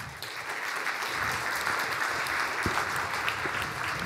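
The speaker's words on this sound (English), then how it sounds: "Let's give another round of applause to the guys." Steady applause from an audience at a keynote presentation, a dense wash of clapping that holds at an even level throughout.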